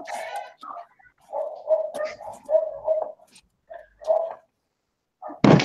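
Dogs bark and whimper in short bursts with pauses between them, fairly close and moderately loud, ending on one louder sharp bark.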